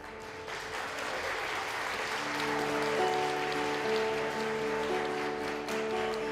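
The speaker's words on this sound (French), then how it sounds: "Mesdames, Messieurs, j'aimerais que vous applaudissiez" An audience at a charity cabaret in Orp-le-Grand applauds a technician, a continuous wash of clapping that swells and holds steady while sustained musical tones sound beneath it from midway on.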